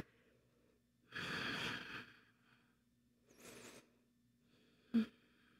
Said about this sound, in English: Take about 5 breaths here.